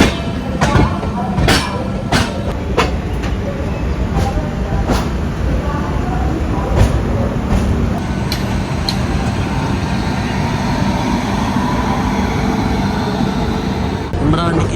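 A train rolls by steadily, heard from aboard a moving express with rhythmic wheel clicks on rail joints over continuous rumble, while a voice talks partway through.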